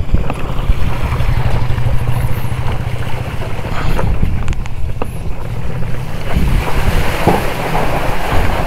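Hestur Energy Warewolf Plus electric scooter riding through standing water on a road, with a continuous rushing, sloshing wash of water and heavy wind buffeting across the whole stretch, steady and loud with no talking.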